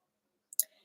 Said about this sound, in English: I'm just shuffling my cards